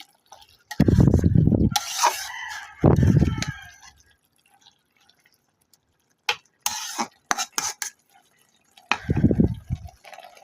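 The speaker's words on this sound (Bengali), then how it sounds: "ভেজে রাখা মাছগুলো দিয়ে দিচ্ছি।" Pre-fried fish goes into a pot of gourd-leaf greens curry, with clattering, stirring and light splashes in short bursts, broken by a few spoken phrases and quiet gaps.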